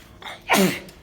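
A single sharp sneeze from someone with hay fever during an outdoor home workout, a short intake of breath followed by one loud, close burst, then quiet.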